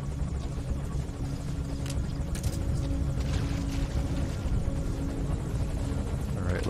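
Continuous low chopping thrum of a helicopter hovering nearby in a holding pattern in Metal Gear Solid V: The Phantom Pain, a steady rotor drone with a faint whine on top, no speech.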